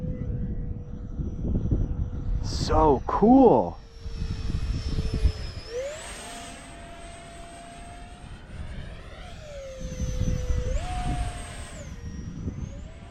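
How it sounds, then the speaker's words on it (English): A 3D-printed radio-controlled F-22 jet model flies close by outdoors on a gusty day, its high whining motor sweeping up and down in pitch as it passes, with brief excited talk and wind noise near the start. "What a freaking cool jet."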